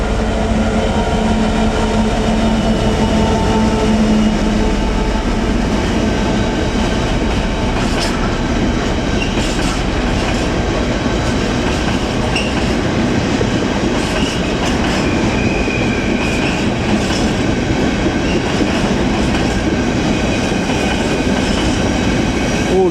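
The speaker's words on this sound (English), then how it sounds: "Freight line. Is that freight line there? No, GBRF. That is 66792." A GBRF Class 66 freight locomotive and its wagons roll through Cambridge station, a loud continuous rumble with rhythmic wheel clatter and faint squeals as the train passes close by.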